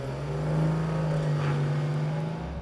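A BMW M760Li and a Skoda Superb 280 accelerate in a drag race, heard as a steady droning engine whir rising slightly, moderately loud and heard from inside the car.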